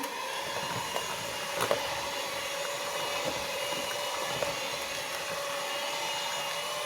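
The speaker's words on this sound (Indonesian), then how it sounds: "kita pakai kecepatan besar. Bukan kue aja nih yang di mixer, daging juga di mixer." An electric mixer runs at high speed, blending ground meat for village-style meatballs. It gives a steady, even whir with a few faint knocks, fairly quiet and with no talking.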